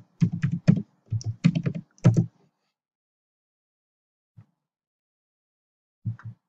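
Computer keyboard keys clatter in quick close bursts of typing for about two seconds, then silence broken by a lone tap and a final short cluster of keystrokes.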